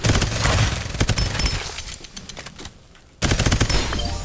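Rapid automatic AK rifle fire in the battle royale game Farlight 84 rattles out in loud, dense bursts, breaks off briefly, then resumes at full volume.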